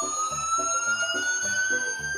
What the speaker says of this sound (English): like a police siren